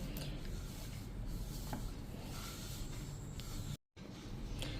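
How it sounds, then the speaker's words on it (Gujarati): Hands rubbing ghee into flour for Gujarati sata dough, a steady dry rasping and rubbing close up that continues without pause and drops out for a moment near the end. "તો આ રીતે જો આપણે ઘીને મિક્સ કરી દીધું છે લોટમાં"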